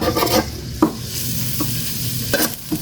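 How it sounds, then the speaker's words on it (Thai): Chopped garlic and pounded chili stir-fried in hot oil in a wok while making basil stir-fry with mushrooms and pork; steady close sizzling with a few sharp scraping stirs of the spatula, no voices. "แล้วใส่ กระเทียมสับกับพริก ที่โขลกไว้นะครับ ใส่ลงไปครับ แล้วทำการผัดนะครับ"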